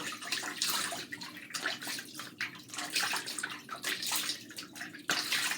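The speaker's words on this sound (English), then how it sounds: "now I'm rinsing." Running tap water splashing steadily as a face is rinsed after makeup removal, a continuous close rushing and spattering with small uneven surges.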